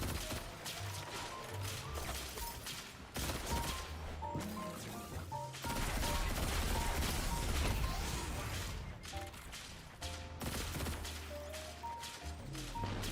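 Gunfire and crashing impacts from the Destiny 2 video game, a Prismatic Hunter fighting solo, sounding as steady repeated shots over continuous loud game music and effects.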